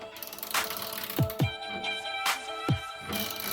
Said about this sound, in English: So now we're gonna get a wrench and touch it up.